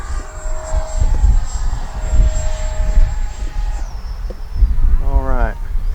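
An FMS Futura V3 80mm electric ducted-fan RC jet flies overhead with a steady high-pitched howl that shifts in pitch as it passes, fairly close and loud, with someone talking over the wind-buffeted sound.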